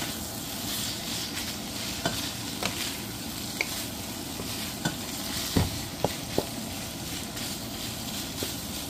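Pork bistec, soaked beforehand in soy sauce and lemon, fries in a pan with a continuous sizzle, broken by about ten scattered sharp clinks and scrapes as it is stirred.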